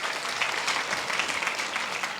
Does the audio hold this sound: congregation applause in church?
yes